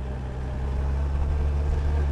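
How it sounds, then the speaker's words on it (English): A motorcycle engine holds a steady, droning hum as it strains against the applied rear brake at slow speed with too much throttle, a continuous close rumble with no speech. "You can hear the engine straining against the brakes."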